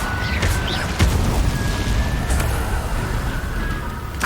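Fire spell bursts in Hogwarts Legacy gameplay, with a loud whooshing impact near the one-second mark and another around two and a half seconds over a steady low rumble of game ambience and a faint sustained tone.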